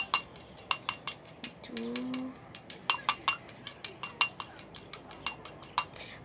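A spoon clinks and scrapes in a bowl as a honey face mask is mixed, giving a steady series of close, sharp ticks with a short low hum partway through.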